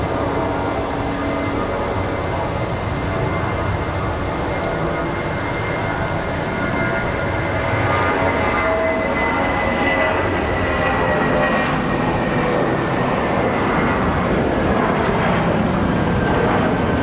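A JetBlue jet airliner at Raleigh-Durham airport roars continuously at a distance. A broad, steady engine rush with a faint whining tone holds for the whole stretch and builds slightly toward the end.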